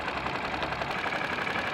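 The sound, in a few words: outboard boat engine running warm before winterizing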